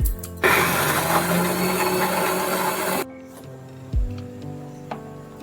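A blender grinds soaked chana dal with salt and sugar into a paste, a loud steady whir for about three seconds that then cuts off, followed by quieter clunks and rattles of the jar.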